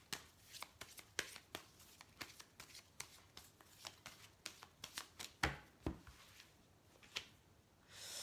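Oracle cards are shuffled by hand close up as a quick series of crisp, riffling slaps and flicks in an uneven rhythm, with no talking over it.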